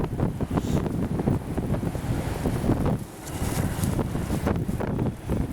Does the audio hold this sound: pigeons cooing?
no